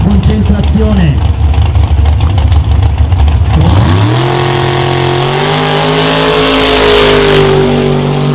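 A 2000-horsepower 1973 Chevy C10 muscle truck launches at a drag strip. The engine roars loudly and climbs through steady rising revs as it accelerates away, with an announcer speaking over it.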